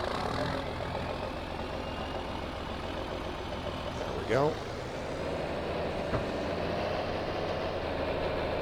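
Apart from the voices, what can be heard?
tractor engine running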